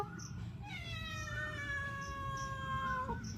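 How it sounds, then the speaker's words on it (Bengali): A cat sitting at a house window gives one long, drawn-out meow that rises and then holds, heard close and clear over a quiet indoor background. "জানলার সামনে বিড়াল এসে বসেছে, কি সুন্দর। আবার ম্যাও ম্যাও করছে"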